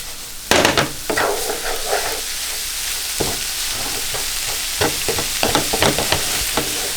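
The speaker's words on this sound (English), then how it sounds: "Quick mix." Pulao with sugar gets a quick stir in a pan, producing repeated scraping and clattering strokes over a steady frying sizzle, close and fairly loud.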